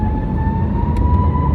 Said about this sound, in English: The Airbus A321 is actually bloody powerful.